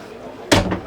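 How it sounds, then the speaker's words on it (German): Heavy motorhome door with a three-point lock on a MAN TGM 4x4 expedition truck slammed shut, a single loud thud with a short rattling tail, close by after a quiet moment. "Die Tür bekommt man nicht so einfach auf. Ja, mach mal zu bitte."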